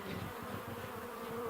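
Honey bees buzz steadily around a backyard beehive, a dense, close, continuous hum with no voices over it.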